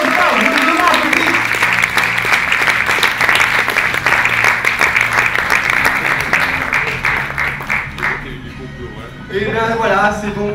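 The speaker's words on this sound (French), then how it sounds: "on voulait l'applaudir très fort, je vous demande, public" An audience at a Montpellier stage show applauds loudly, dense clapping running for most of the stretch before thinning, with voices talking over it near the end.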